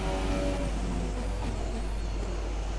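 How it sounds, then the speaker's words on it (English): A Formula 2 race car engine in a racing video game, set at the Bahrain circuit, drones loud and steady as it holds high revs through gear changes, with no talk over it. "Into turn 1, shifting down to second gear, max revs, up the gears now, 6th and now 7th under the Pirelli sign."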